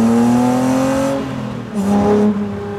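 Jannarelly Design 1 sports car with a manual gearbox revving hard while driving, a loud close engine note that climbs, dips briefly as the gear changes, then surges again.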